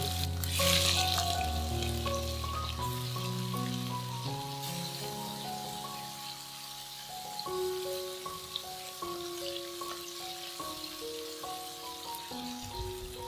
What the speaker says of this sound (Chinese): 我想吃焦焦的口感，煎豆腐时呢，需要比平时多2分钟。